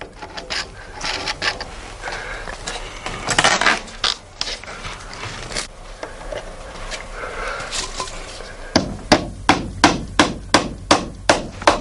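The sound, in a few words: hammering nails into wooden boat keel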